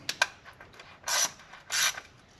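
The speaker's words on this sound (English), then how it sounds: "All right, so tighten up the valve covers." A ratchet tightens the stamped steel valve covers on a small block Chevy in a Chevelle, giving a few short clicks and then two longer raspy pawl bursts, close and moderately quiet.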